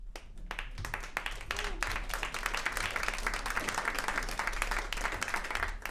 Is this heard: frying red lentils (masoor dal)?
no